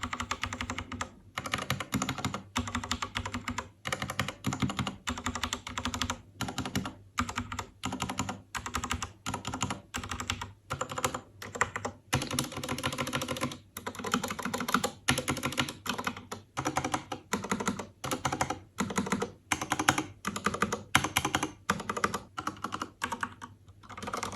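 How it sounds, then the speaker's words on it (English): Typing on a Ducky Mecha Mini 60 percent keyboard with Cherry MX Red switches in an aluminum case, a fast, steady stream of soft keystrokes with brief pauses, close and continuous, with no voices. "if you can hear any difference of same Cherry MX Red switches within aluminum case as opposed within the plastic case"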